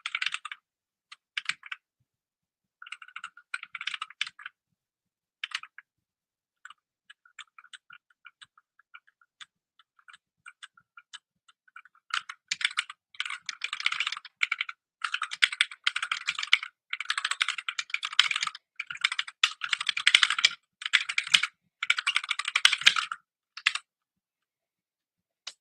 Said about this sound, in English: Do you guys like all this typing being over my head?